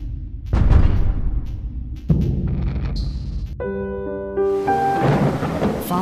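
Heavy thunder rumbles and cracks through a storm, loud and close, in two big rolling waves with a sustained low roar and a faint tonal hum in the background.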